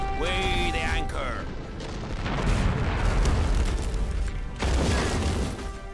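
Ship cannons firing in the naval combat game No Man's Land, a series of loud booming blasts and rumbling impacts, with someone talking over them.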